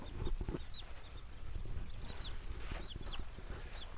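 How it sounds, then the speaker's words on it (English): Chickens and young chicks cluck and peep softly in a greenhouse, with several short high calls scattered over a low steady background rumble. "All the little chicks are growing up."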